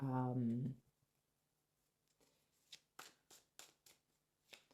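Tarot cards being shuffled: a series of soft, close riffling and flicking bursts in an uneven rhythm, following a brief stretch of speech at the start.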